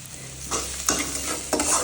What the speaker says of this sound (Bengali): পেঁয়াজটা কিন্তু আমার ভাজা ভাজা হয়ে গিয়েছে